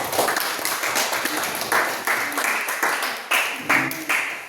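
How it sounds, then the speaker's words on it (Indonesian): A classroom group gives a presenting team a round of clapping, with bursts of hand claps from a small crowd that rise and fade in uneven waves, fairly close. "Tepuk tangan kelompok."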